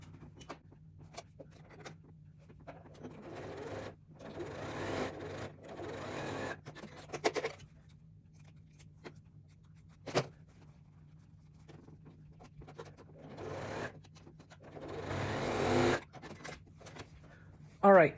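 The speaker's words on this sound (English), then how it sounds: "I'm going to take a piece of binding that I've made and I'm going to sew it on the back" Sewing machine stitching homemade binding onto the back of fabric for Christmas silverware packets, running in several bursts of rapid whirring between pauses, close by, with occasional clunks and handling noises.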